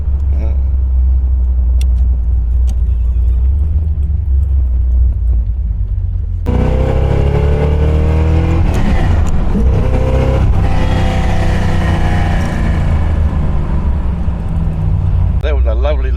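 A 1968 Chevrolet Corvette rumbles loudly at low engine speed, then accelerates hard with a rising, roaring exhaust note heard from close by, under some talking.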